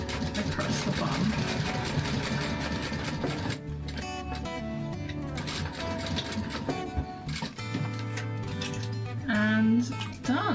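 Sewing machine stitching a Kraken coffin-shaped glasses case, a steady continuous mechanical whir with rapid stitching rhythm that shifts pitch partway through, close and fairly loud.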